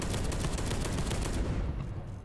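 Rapid video-game gunfire in Space Hulk: Deathwing, a dense run of loud, fast repeating shots that cuts off near the end of the burst.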